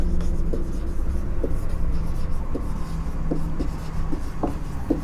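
A pen scratches steadily across paper while an equation is written out by hand for a control-systems lesson on DC servomotors, a close, continuous rustle of strokes with small taps where the pen lifts and lands.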